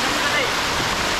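Water rushes down a hidden waterfall near Ahmednagar over a slippery rocky spot, making a constant, dense roar close by.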